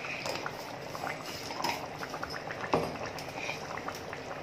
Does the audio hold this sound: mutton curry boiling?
yes